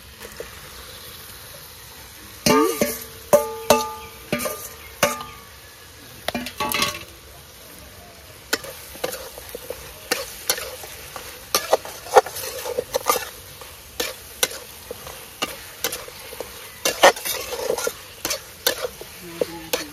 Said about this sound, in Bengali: এখন আমি মাংসগুলো ঢেলে দিচ্ছি